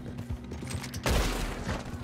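Gunfire from the Red Dead Online video game: scattered pops, then a heavier burst of shots about halfway through, with a continuous rumble of game noise underneath.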